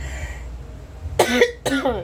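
Two sharp coughs close together near the end, following a stretch of quiet room hum.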